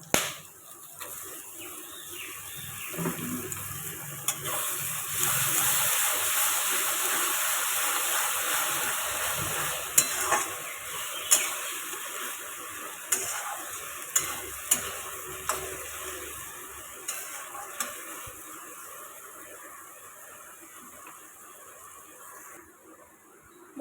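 Ginger-garlic paste fries with browned onions in a pan for a chicken gizzard and liver curry, giving a soft, steady hiss punctuated by sharp ladle clicks and scrapes as it is stirred.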